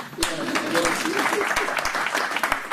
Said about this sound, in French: J'ai vraiment envie d'acclamer.